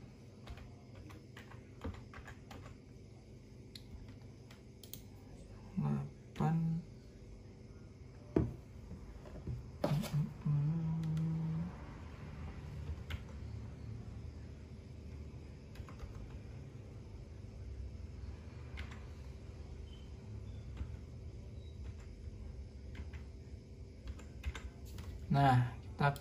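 Keys clatter on a computer keyboard in scattered bursts while a name is entered into an online form, with a low steady room rumble and talk under the typing.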